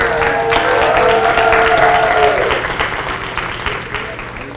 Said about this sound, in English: can we get a round of applause for Ms. D'Ariel Reed?